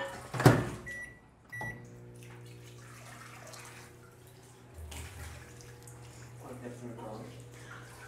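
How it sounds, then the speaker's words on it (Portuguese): A microwave oven hums steadily while heating sugar and water, preceded by a door clunk and beeps, with faint kitchen clatter and a voice speaking. "E vou colocar no micro-ondas."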